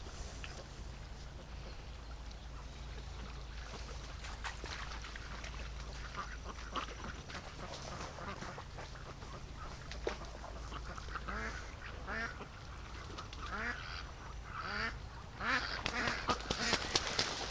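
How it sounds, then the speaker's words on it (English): Free-range ducks near a lake and creek give scattered quacks, fairly faint and at a distance, over a soft outdoor background. The calls grow busier toward the end. "These ducks, the ones that have disappeared now, they've gone up the creek."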